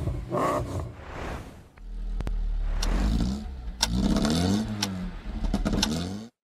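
A V8 car engine, an AMG, revving in several loud bursts, deep rumbling blips rising and falling with brief pauses between them and a sharp cut-off at the end.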